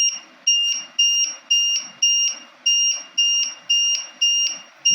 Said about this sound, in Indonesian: Bersuara sangat keras, jadi kita bisa dikasih tahu, oh ini waktunya untuk turun ya.